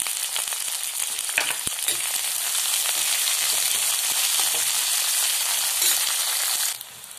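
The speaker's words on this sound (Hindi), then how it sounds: "इसके बाद डालेंगे दोस्तों इसमें प्याज, इन सभी को अच्छे से भूनना है" Chopped onions fry in a pan for a soya bean dish, giving a steady, loud, close sizzle that holds evenly for several seconds before dropping away at the very end.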